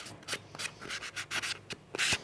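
A crashed 2018 Seat Leon 1.4 TSI has its painted bodywork sanded by hand, producing steady back-and-forth abrasive rubbing strokes in an uneven rhythm, close and fairly loud with nothing else over them.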